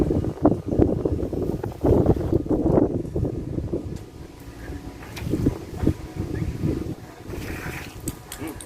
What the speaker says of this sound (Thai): ของมาสเตอร์นี่ลมแรงมากเลยครับ